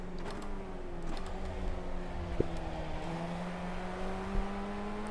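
A Formula Ford 1600 racing engine in the iRacing sim at Okayama drones steadily, its pitch rising and easing with throttle, with a couple of brief clicks or bumps over the continuous loud hum.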